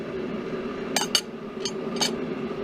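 A heavy chisel is struck on the back while cutting stock at a workbench, giving about four sharp metallic clinks close by, two quick ones and then two spaced apart, over a low steady hum.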